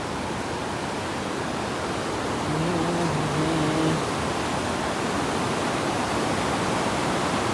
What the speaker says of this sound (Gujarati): આ જે તમે રિવર જોઈ રહ્યા છો, આ રિવર છે અલકનંદા છે.